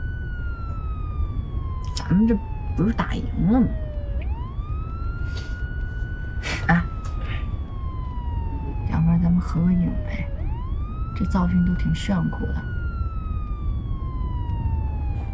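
A police car siren wails in long rising and falling sweeps, steady and fairly close, while people talk over it from inside the vehicle.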